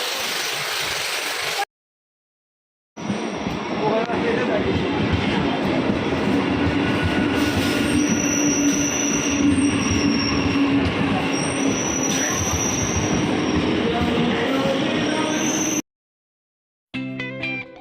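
A train at a railway station, with loud, steady rumbling and wheel squeal carrying on for about thirteen seconds between brief silent gaps, and rhythmic clicking and clacking as the cars pass close by.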